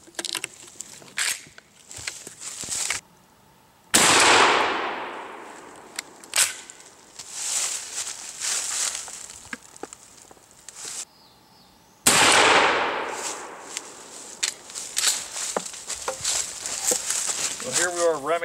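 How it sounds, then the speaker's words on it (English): Full-choke shotgun firing No. 4 buckshot, Federal loads, at 45 yards outdoors, with two loud, sharp blasts about eight seconds apart, each followed by a decaying echo, and people talking between the shots. "let's go ahead and shoot another full choke"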